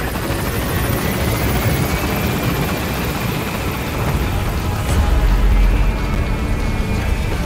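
Helicopter rotor and engine roar from Metal Gear Solid V as the aircraft gains altitude, a loud steady wash that swells briefly stronger midway, with no talking.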